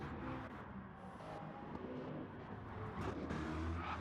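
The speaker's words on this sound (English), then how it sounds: "Hear that car shutting almost completely off." Gran Turismo GT Gr.3 race car in a race at Sardegna, engine note dropping as the car lifts off almost completely under braking, a steady loud broadband engine roar with no talk.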